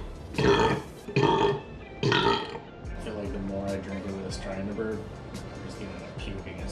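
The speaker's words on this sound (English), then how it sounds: "I feel like the more I drink of this, trying to burp," Loud burps in a burping contest, three big bursts in quick succession, followed by people talking and laughing nearby.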